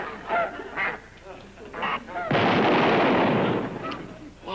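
A voice imitates geese with a series of short, nasal honks, then a burst of loud, rough noise follows.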